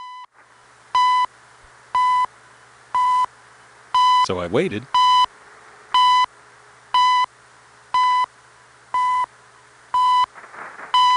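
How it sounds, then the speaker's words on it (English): The CHU Canada shortwave time station sends evenly spaced beeps about once a second over faint static, and a voice speaks briefly between them. "So I interpreted these beeps as some station about to sign on."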